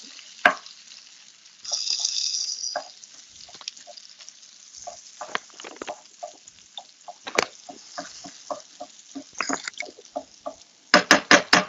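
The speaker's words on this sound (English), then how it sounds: "I'm just going to mix this together and get that pork all nice and browned up" Ground pork browning in a pan, stirred with a utensil: soft sizzling broken by a series of scraping and clinking strokes against the pan, fairly close and with no talking.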